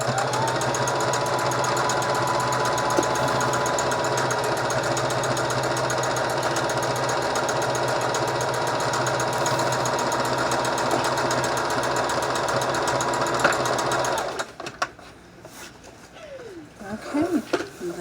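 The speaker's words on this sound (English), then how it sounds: "I'm just gonna sew at an angle from this point over, and then I'm going to sew all the way over" A sewing machine stitching an upcycled t-shirt hat, a loud steady mechanical whir with fast rhythmic needle clatter running continuously for about fourteen seconds before stopping, followed by faint handling noises and a brief bit of talk.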